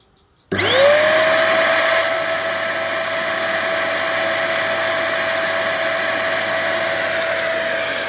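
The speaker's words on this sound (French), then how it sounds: "C'est un aspirateur qui fait 800 watts." An 800-watt vacuum cleaner starts up and runs steadily, a loud continuous motor whine with a rising pitch settling into a constant drone, close by and alone.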